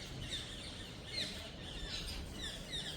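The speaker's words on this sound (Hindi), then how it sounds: "सामने तोता है।" A parrot gives a few faint, thin calls over steady outdoor background noise along a pilgrimage path at Barsana, the calls scattered and distant.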